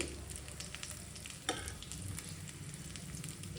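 Corn cutlets fry in a pan over low flame, a soft continuous sizzle heard close but faint, with one brief sharper crackle partway through.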